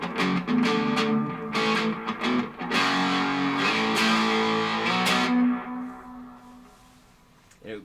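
Electric guitar played through an Electro Harmonix Memory Toy analog delay with its mode switch on, distorted strummed and picked notes followed by repeating echoes that trail off into a fading wash.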